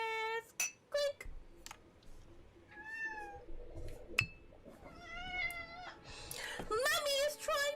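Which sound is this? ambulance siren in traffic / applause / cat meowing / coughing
cat meowing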